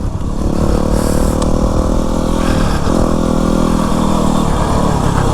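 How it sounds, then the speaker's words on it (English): A Yamaha WR250R dual sport motorcycle runs steadily and loud on an MX track, its mid-pitched engine droning continuously with small throttle dips and surges, close to the listener and with no voices. "WR250R on the MX track"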